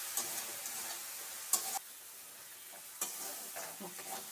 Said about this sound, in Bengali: ভালো করে মশলাটা কষিয়ে নিয়েছি। আদা দিয়েছি